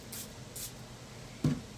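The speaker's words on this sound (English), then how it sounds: "So I'm just going to spray a little bit on the paper" Three short hissing spray bursts of water onto paper, two early and one louder near the end, from a nearby spray bottle in a quiet room.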